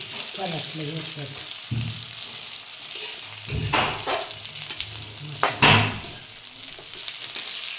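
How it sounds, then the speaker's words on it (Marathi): Masala frying in a pan for a village-style spicy brinjal dish crackles and sizzles up close, broken by several loud stirring scrapes, with a brief murmur of a voice near the start. "चांगलं परतून घ्यायचं"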